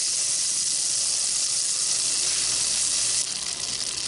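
Butter and bacon grease sizzle in a preheating cast-iron Dutch oven, a steady close hiss with no talk, easing slightly near the end.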